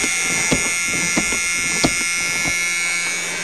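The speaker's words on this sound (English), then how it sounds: "Horrible buzzer." A 1976 Chrysler New Yorker's door warning buzzer drones steadily at a high pitch during a cold start, with a few soft clicks and thumps underneath.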